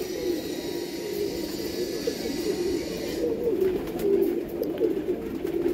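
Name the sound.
pigeons cooing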